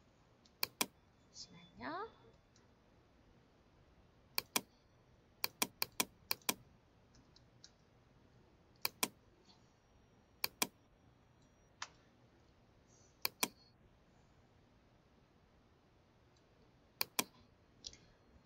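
Keys on a computer keyboard are typed in short bursts of quick clicks separated by pauses, fairly crisp and close, while a person speaks briefly near the start.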